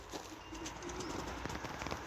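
Soft, low pigeon cooing in a loft rises and falls quietly over a faint background hiss.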